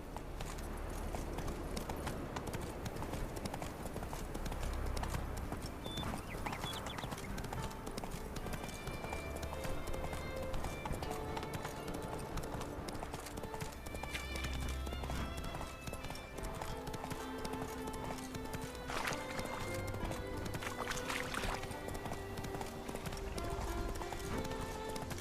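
Roach, Geralt's horse in The Witcher 3, gallops with steady, rapid hoofbeats that run throughout, accompanied by game music and ambient sound, with a brief whinny-like sound partway through.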